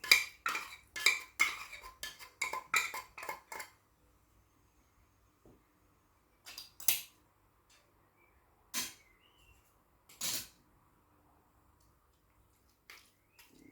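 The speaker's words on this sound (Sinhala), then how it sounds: "අපිට මේ ආකාරයට සැමන් මාළු එක මේ ටින් එකේ තියෙන චූටි කෑලි වලට කඩා ගන්න පුළුවන්" A utensil breaks canned salmon into small pieces inside the tin, with a quick run of close metallic taps and scrapes, then quiet stretches broken by a few isolated clinks.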